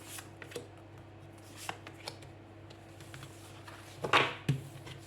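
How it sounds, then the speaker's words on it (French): Tarot cards are shuffled and drawn nearby in soft riffling bursts and quick flicks. A louder shuffle comes near the end against a quiet room hum, and no one speaks. "Et on va prendre 3 cartes."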